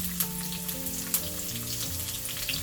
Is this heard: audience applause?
no